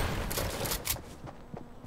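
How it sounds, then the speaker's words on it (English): Gunfire in a Fortnite match, a rapid burst of several sharp shots up close in the first second, then a few sparser, fainter reports trailing off. "Why is this other guy shooting me?"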